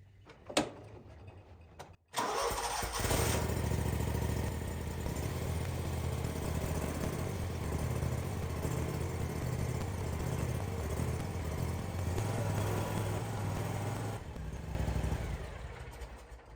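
Scag Patriot mower engine starting and running with the rear jacked up and wheels off the ground; a brief pause, then a steady mid-pitched engine drone holds for the rest of the clip, briefly dipping near the end.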